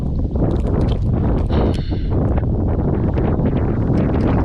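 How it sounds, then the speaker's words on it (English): Strong wind buffeting the microphone outdoors on a December cast-and-blast outing, a loud, continuous roaring rumble with gusty swells throughout and no speech. "Probably hear the wind in the background."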